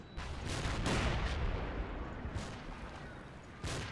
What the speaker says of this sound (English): My mortar's trying to kill it.